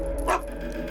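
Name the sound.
dog barking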